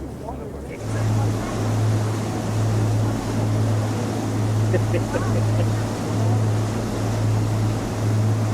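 A small tender boat holding about 30 people motors across Alaskan water, a steady droning hum with wash and wind noise throughout, heard from on board.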